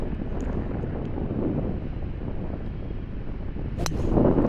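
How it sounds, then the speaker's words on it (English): Steady wind buffeting and rushing across an open golf course fairway, a constant low roar with a brief sharp knock near the end. "Although the wind's in my face here"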